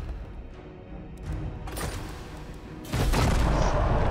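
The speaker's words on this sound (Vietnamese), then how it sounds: "khẩu pháo từ địa ngục" Cannon fire in the video game Total War: Warhammer 2, a dense run of booming blasts that swells and grows louder and heavier midway, layered over continuous battle noise with no talking.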